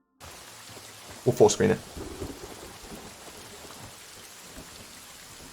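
Rain falling in the video game Hytale, a soft steady wash of rain with a brief louder burst near the start, heard as if from indoors with the rain hitting a roof. Someone speaks briefly early on.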